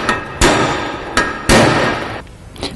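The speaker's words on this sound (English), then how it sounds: "The rust does get quite stubborn on the inside of this disc, so I just use a hammer and chisel and tap away." Hammer and chisel tapping stubborn rust off the inside of a Range Rover L322 brake disc, with four or five sharp, loud metallic strikes at irregular intervals and a ringing decay after each.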